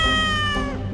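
A house cat lets out a single loud, close meow, drawn out and falling in pitch over about a second.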